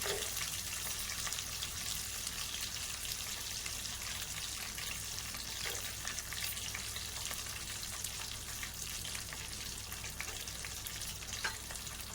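Almonds fry in a pan for carrot halwa, a continuous soft sizzle with occasional stirring scrapes and clinks, steady and moderately quiet, with no voices.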